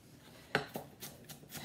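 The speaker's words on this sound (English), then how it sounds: "I'm just going through and I'm chopping this stuff up." Red onion is chopped with a knife on a board for salmon croquettes, a handful of close, sharp knife strikes landing at an uneven pace against a quiet room.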